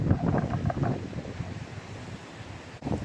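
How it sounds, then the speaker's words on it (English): Stormy wind gusts across a microphone at an outdoor skate spot, a loud rushing roar that surges at the start, eases through the middle and picks up again at the end, with no talking. "just because it's so windy, man"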